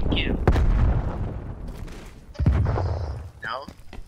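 A frag grenade explodes in a Call of Duty Cold War hardpoint match, a loud close boom with a second heavy blast moments later, mixed with in-game radio voice callouts and chatter.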